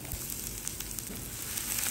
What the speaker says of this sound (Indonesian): Panaskan sedikit minyak goreng, kita tumis dulu bawang bombay.